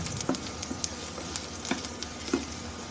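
Small pieces of food frying in hot oil in a home kitchen, a soft, steady sizzle with occasional louder pops and a few stirring scrapes, heard fairly quietly and close.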